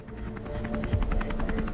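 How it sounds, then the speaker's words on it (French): A helicopter flying over a park search, with steady rhythmic rotor thumping at moderate distance under a continuous low drone. "il y avait des hélicoptères."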